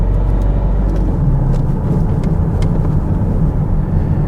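Vauxhall Insignia car accelerating, a loud continuous low engine rumble with steady road noise, heard from inside the cabin.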